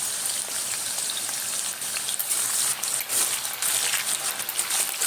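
Salted potato pieces frying in about three spoons of oil, giving a steady, dense sizzle and crackle that stays loud and even throughout with no talk over it.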